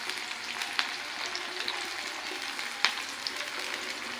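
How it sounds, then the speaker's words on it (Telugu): Onions and green chillies fry in a pan for Guntur gongura curry, a continuous gentle sizzle broken by a couple of sharp pops, with no one talking. "ఇలాగ ఉల్లిపాయలు, పచ్చిమిర్చి వేగాలి."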